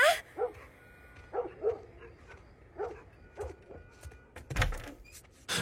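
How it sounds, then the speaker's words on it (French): Several muffled dog barks from a game scene in The Last of Us, spaced irregularly over a low dark ambience with a thump near the end; moderately distant and not very loud. "Le chien aboie."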